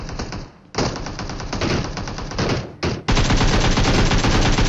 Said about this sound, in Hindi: मेरे जस्ट पीछे से भी कुछ फायरिंग की आवाज़ आती है